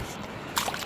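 Brief slosh and splash as a fish slips back into the cold water of the Blue River in Oklahoma: quiet flowing water first, then a sudden bright splash close by.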